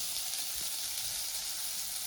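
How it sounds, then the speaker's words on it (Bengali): Bata fish frying in a pan with no added oil gives a steady, close, bright sizzling hiss that runs unbroken for the whole stretch, with no voices over it. "এই মাছ এখন মা ভাজা করছে"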